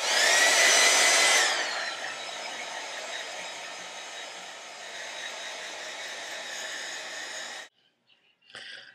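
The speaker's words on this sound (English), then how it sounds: "You're going to want to use a hair dryer to dry this." A hair dryer blows loudly at first, then settles into a steady, slightly quieter whir for several seconds before switching off, followed by faint handling noises.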